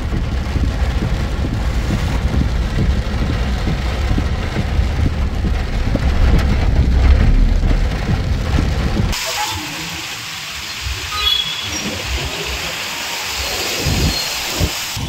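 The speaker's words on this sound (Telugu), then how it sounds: "ఈదురుగాలులతో భారీ వర్షం కురుస్తోంది" Heavy rain and rumbling gusty wind roar loudly in Sangareddy, Telangana, then the sound shifts to a thinner, steady patter of rain with lighter gusts.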